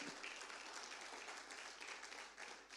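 A church congregation claps in a faint, sustained round of applause during a sermon, steady clapping heard at a distance and low in level.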